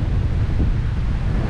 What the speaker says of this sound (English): Look at it, is windy.